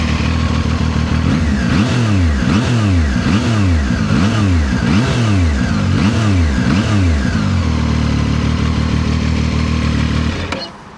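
Zontes ZT 703F Adventure motorcycle engine revs hard and repeatedly, rising and falling in a steady rhythmic sequence of blips, loud and close, before cutting off at the end.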